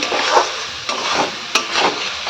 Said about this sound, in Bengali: আলু ভাজা ভাজা হয়ে গেছে এবার দিয়ে দেবো পেঁয়াজ আদা রসুন সব কিছু পেস্টটা